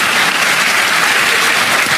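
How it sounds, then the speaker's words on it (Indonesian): A church congregation claps in unison during a sermon, a bright, even roar of applause that stays strong and constant, with no voices over it. "ya tepuk tangan."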